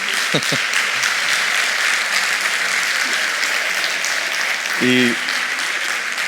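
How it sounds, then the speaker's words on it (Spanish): Audience applause at a talk on depression, roughly two hundred people clapping steadily throughout, with a brief tonal voice or sound surfacing near the end. "Este aplauso que te llegará con unos segundos de retraso es para ti"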